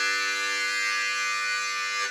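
A harmonica chord drawn by inhaling on the bottom two or three holes, played as one sustained, buzzy tone that fades at the end, heard alone and close.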